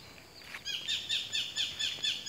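A bird in a durian orchard gives a quick run of thin, high repeated chirping notes at a moderate distance, faint against quiet background hiss.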